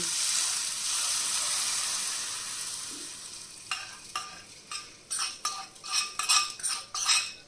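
Hot oil for a tempering sizzles loudly at first, then fades as a spoon stirs and scrapes against a pan in quick repeated strokes.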